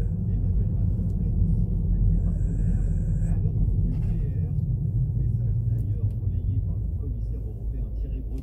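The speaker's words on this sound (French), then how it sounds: "mais il y a beaucoup de voitures là." Steady low road rumble of car traffic, with a van among the vehicles, runs continuously at moderate loudness throughout, under faint voices.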